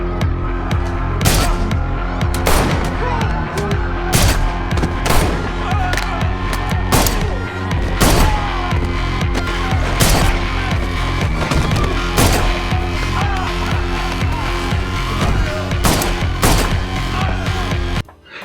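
Gunfire in a movie fight scene from The Old Guard (2020): sharp, loud shots crack out at fairly regular intervals over a dense, throbbing score.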